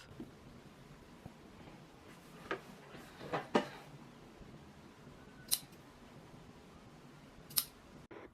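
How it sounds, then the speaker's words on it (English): Scissors snipping excess elastic off a sewn swimsuit piece, a handful of crisp, close cuts spaced irregularly over a quiet background. "we're just going to snip that off"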